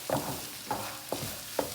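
Shrimp fried rice stir-fried over high heat, with four sharp scraping stirs spaced about half a second apart over a low, steady background sizzle, close and moderately loud, no voices.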